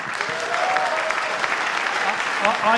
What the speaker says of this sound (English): Give these fellas a clap, they're just brilliant.